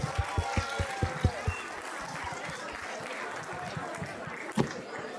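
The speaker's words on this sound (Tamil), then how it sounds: "திருப்பி கைத்தட்டலாமே" An audience at a Tamil stage function claps, starting with a few evenly spaced, fairly quiet claps before looser scattered clapping follows. Voices murmur and speak underneath.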